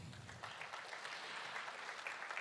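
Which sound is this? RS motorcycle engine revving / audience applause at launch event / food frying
audience applause at launch event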